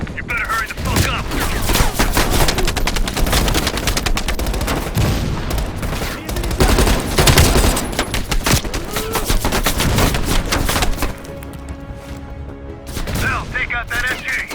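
Call of Duty Cold War gunfire on PS5, loud sustained automatic bursts and rapid shots filling the scene, with in-game voices shouting over the battle.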